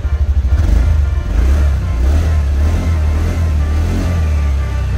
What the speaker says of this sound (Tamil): ஸோ இதோட எக்ஸாஸ்ட் நோட் வந்து உண்மையிலே எந்த ஸ்கூட்டிலுமே வராது